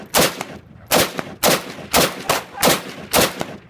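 Rapid gunfire from an AK-47 rifle, loud and close: about six evenly spaced sharp shots, each leaving a short echoing tail.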